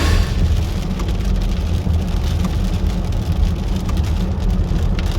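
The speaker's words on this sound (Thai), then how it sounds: "ฝนตกก็แรงแรง" Steady heavy rain pours continuously in Norway with a dense hiss and low rumble, constant throughout with no voices.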